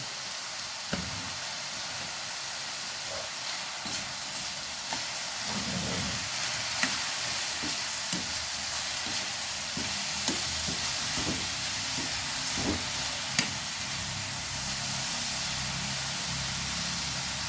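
Chopped celery stir-fried in a pan while making lumpiang shanghai gives a continuous loud sizzle, broken by occasional scrapes and clacks of stirring.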